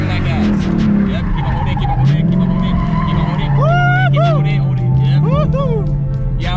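Car drifting with its tires squealing and burning, sweeping engine revs joined by repeated sharp, warbling tire squeals. Close and loud, with people talking over it.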